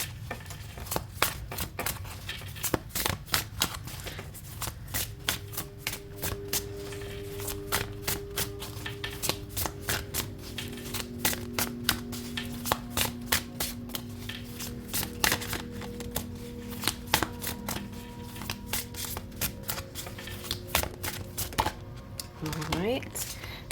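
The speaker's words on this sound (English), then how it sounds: "Alright, I'm just gonna shuffle." Tarot cards from a deck are shuffled by hand in repeated quick riffling bursts of crisp flicking clicks, close and fairly quiet, with a person talking softly at times.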